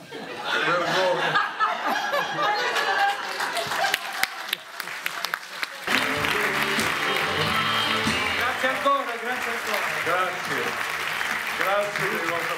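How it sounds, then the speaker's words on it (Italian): Theatre audience at the Teatro Dehon in Bologna applauds loudly and steadily for the full stretch, with laughter and chuckles mixed in and a brief dip in the middle before the clapping swells back up. "Grazie dei vostri applausi, del vostro calore"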